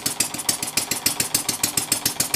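Small overhead-cam air-cooled model engine running steadily with its cooling fan, a fast regular chuffing pulse about seven beats per second over a bright whirring hiss, close and fairly loud with no talk.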